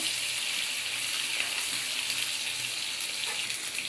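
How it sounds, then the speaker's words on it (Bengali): Eggs frying in hot oil with turmeric and salt in a pan for a spinach egg curry, giving a continuous dense sizzle, close and steady throughout with no voices. "ডিমটা এখন ভালো করে ভাজা নেব একদম লাল লাল করে"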